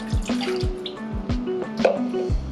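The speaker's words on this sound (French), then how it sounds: "Pour la pâte, on commence par mettre 140 ml d'eau." Water poured into a bowl as the first step of okonomiyaki batter, coming through as a run of small splashing, dripping pulses over about two seconds, close and moderately loud with no talking.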